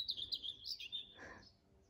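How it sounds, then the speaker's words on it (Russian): A small bird sings from an apple tree, a short burst of high, quick chirps and tweets close by with faint background quiet. "Где-то там вот на яблоне сидит птичка, поет."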